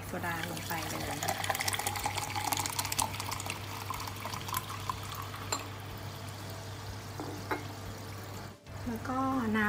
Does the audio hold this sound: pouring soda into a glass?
yes